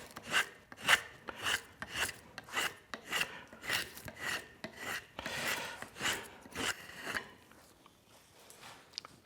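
A wooden spokeshave shaves a Windsor chair spindle in rhythmic strokes, each a short rasping swish repeated about twice a second, close and fairly quiet, with no talk over it.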